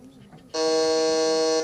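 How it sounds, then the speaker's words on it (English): Quiz buzzer being tested at a business quiz semi-final in New Delhi, a single loud, steady electronic buzz lasting about a second after a brief quiet moment. "Please try your buzzer."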